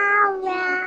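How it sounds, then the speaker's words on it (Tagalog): A cat meows at close range in a home, a single clear two-part meow lasting under a second and heard alone, with no talking. "Meow, meow."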